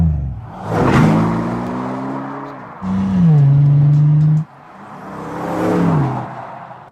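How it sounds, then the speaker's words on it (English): A Bentley V12 convertible with the top down starts up and revs in three loud, close bursts that rise and fall, with a deep throaty tone and no talking. "Let's push the start button. Rev engine."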